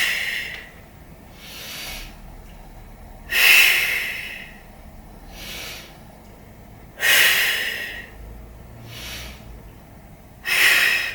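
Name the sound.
breathing in and out during Pilates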